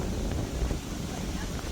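Continuous wind rushes and buffets against the microphone during a motorbike ride, a dense roaring hiss with no pauses.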